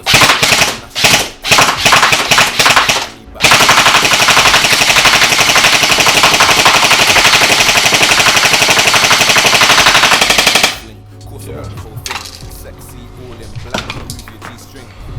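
A Specna Arms SA-H02 airsoft gun fires on full auto at a home firing range, first in a few short bursts and then in one long, loud, rapid stream of shots before stopping, followed by quieter handling noise.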